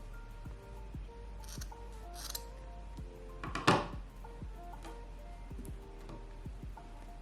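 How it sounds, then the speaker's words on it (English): Scissors snip through a bundle of crochet hair, a few quiet crisp cuts with one louder sharper snip midway, set against faint background hum and soft handling noises. "We're gonna cut that hair."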